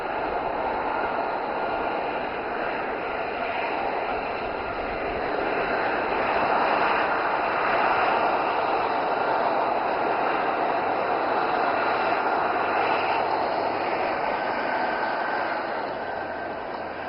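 Aircraft landing at the Aero India 2025 air show in Yelahanka, Bengaluru, heard as a steady, broad engine roar that swells slightly midway and holds for the whole stretch, with no talk.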